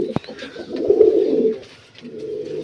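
A fancy pigeon in a home loft gives a near, soft, low coo lasting about a second, then a quieter second coo, after a brief wing or perch knock at the start.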